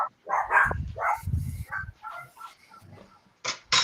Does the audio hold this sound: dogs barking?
yes